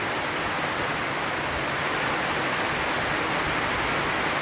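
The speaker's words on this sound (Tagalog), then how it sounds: "Mahabang ulan ito." A long, heavy downpour hisses in a dense, unbroken roar, loud and steady from start to finish with no voices or other sounds.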